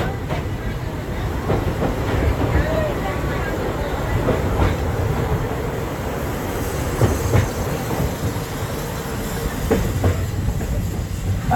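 A Disney park train rumbles steadily along the rails with rhythmic clickety-clack and occasional wheel squeals, loud and close, with no talking.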